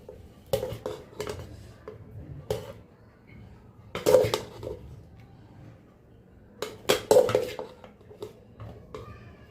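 Plates and steel cutlery clink and scrape in bursts as meat is served at a home dinner on a winter night, with quieter rustling between louder clatters.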